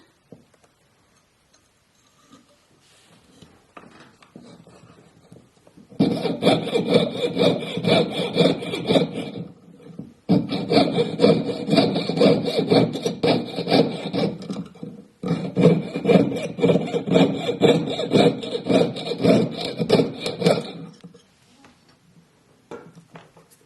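A jeweler's saw blade cuts through a metal pendant in three long bursts of steady, rapid rasping strokes, loud and close, separated by brief pauses, with quiet handling before and after.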